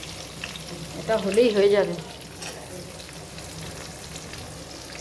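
Chopped onion goes into hot oil after garlic for a chicken chilli, giving a brief burst of sizzling frying with stirring, then a quieter steady sizzle; a person talks over it.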